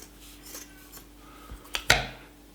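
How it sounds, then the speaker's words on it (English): Scissors snip through the tip of a cotton sock while a cosmesis is made, giving two or three short crisp cuts near the end, loud and close against a quiet room with no talking. "what you want to do is to cut the tip off the sock like this"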